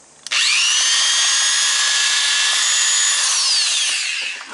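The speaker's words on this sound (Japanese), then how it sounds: "もうちょっとね、大きめの穴を開けないと" A power drill bores a larger hole in a part of a Kyosho circuit buggy (Lancia Stratos) while a steering servo is fitted; a steady, close, high-pitched whine runs for about four seconds, then winds down.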